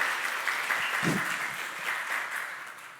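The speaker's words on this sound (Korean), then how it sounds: "박수로 다시 한번 맞이하시겠습니다." A church congregation applauds during a Sunday worship service, a steady, moderately distant wash of clapping lasting about three seconds with a brief low thump near the middle.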